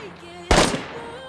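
A single sharp firework burst in the video game DayZ, a loud broadband crack about half a second in that decays quickly over faint background game ambience.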